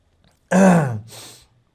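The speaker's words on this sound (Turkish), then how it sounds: "öksürük tuttu iyi mi" A single short cough bursts out close by, followed by a softer breathy exhale, then silence.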